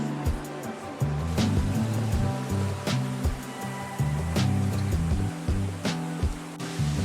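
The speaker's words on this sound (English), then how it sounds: "it's a waterfall." Minoo waterfall in Japan rushes as a loud, continuous roar of falling water, overlaid by rhythmic thumping and knocks close by.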